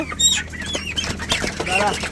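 Broiler chickens in a controlled shed cluck and squawk close by in short overlapping bursts, with rustling and wing flaps among the flock.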